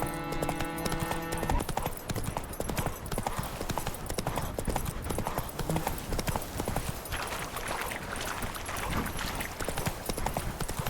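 Horse hooves clip-clopping at a steady gallop as a rider travels across the world of The Witcher 3: Wild Hunt, loud and continuous throughout, with a voice talking now and then over the hoofbeats.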